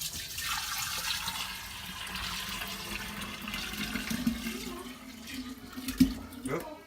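Brewed kombucha tea poured into a container, a soft splashing liquid flow with uneven surges and a small clink near the end, fairly quiet in a home kitchen.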